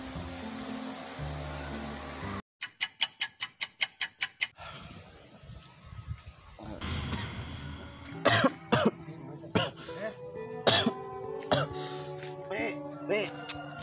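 Coughing from a person in an indoor comedy scene, several short harsh bursts after an opening stretch of music and noise, with a quick run of sharp clicks and talk-like sounds mixed in.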